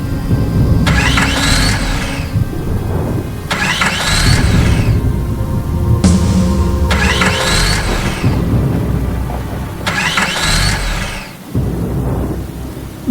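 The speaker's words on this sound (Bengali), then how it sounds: "গাড়ি স্টার্ট করার অনেক চেষ্টা করছি কিন্তু স্টার্ট কিছুতেই হচ্ছে না" A car engine cranks in four separate bursts, each whirring for about two seconds before cutting off without catching, against a steady rushing background.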